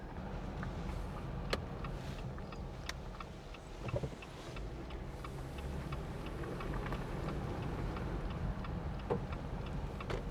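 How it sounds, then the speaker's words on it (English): Car driving down a rural road, a steady low rumble of road and engine noise inside the vehicle with scattered faint ticks and rattles, constant throughout, no speech. "we're driving down Hunter Road"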